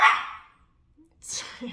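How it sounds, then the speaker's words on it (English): A dog barks a couple of times at moderate distance, short sharp yelps separated by a brief quiet gap. "trying not to hear that barking"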